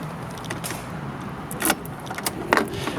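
Keys jangle in short metallic clinks and rattles in two small bursts, mixed with broadband rustling and background noise near a motorbike.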